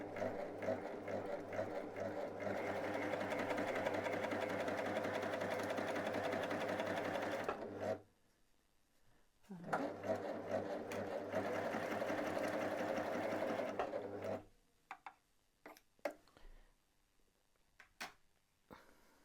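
A Babylock Primo sewing machine stitches in two steady, close runs of rapid whirring needle strokes separated by a brief pause, followed by scattered clicks and handling sounds.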